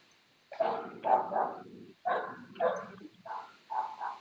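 A pet dog barks repeatedly nearby, in about six short separate woofs with brief pauses between them, loud and clear against a quiet room, with no talking.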